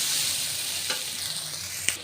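Spices for a fish curry with potato and tomato are sautéed in a pan with a constant hissing sizzle, and a couple of sharp scrapes from stirring stand out near the middle and the end. No one speaks.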